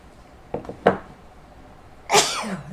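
Two quick sharp sneezes close together, followed a moment later by a louder, longer sneeze with a breathy trailing tail.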